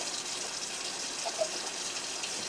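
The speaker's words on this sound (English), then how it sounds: "I still have water running" A kitchen tap runs steadily while someone cleans up between cooking chicken dishes, a soft, even hiss of flowing water with no talk over it.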